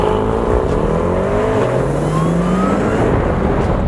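A Mercedes-AMG GT63 S, rated at 630 horsepower, drives with its engine droning loud and close, a steady growl whose pitch climbs gradually as it accelerates under road and wind roar.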